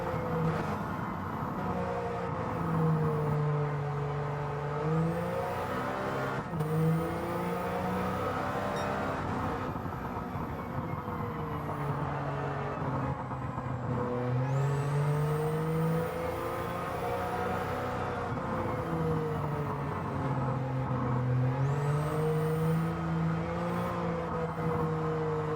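A 1991 Suzuki Cappuccino kei car laps Willow Springs in Gran Turismo 7, its small engine droning and rising and falling in pitch through repeated shifts and corners, a steady, continuous whine with no talk.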